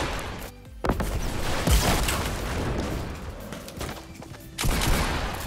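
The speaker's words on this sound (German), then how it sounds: "Lass mich doch mal ein bisschen treffen und schießen" Dense, continuous gunfire and blasts from the video game Fortnite, with repeated shotgun booms stacked over a constant loud wash of in-game effects throughout.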